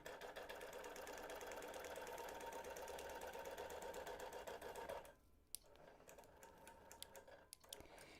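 A sewing machine runs a basting stitch across a quilt, a dense, even needle chatter for about five seconds before stopping, leaving faint clicks and soft handling noise.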